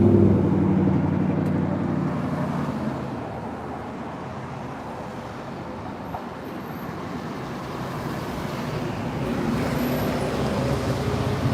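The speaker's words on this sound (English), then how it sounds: "can you guys see the bridge bouncing here as the trucks drive over?" Trucks rolling over a flood-swollen bridge in Fayetteville, North Carolina, after Hurricane Florence, a loud continuous rumble of heavy traffic and rushing water that eases in the middle and swells again toward the end.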